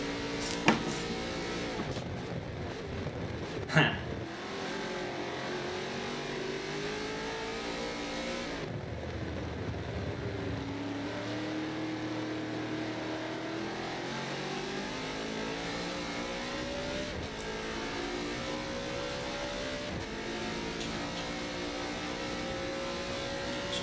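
Touring race cars in a Silverstone 12-hour endurance race roar past with rising and falling engine notes, rapid gearshifts, and a loud pass-by, with a sharp bang early on.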